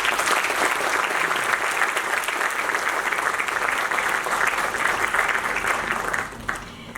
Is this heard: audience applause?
yes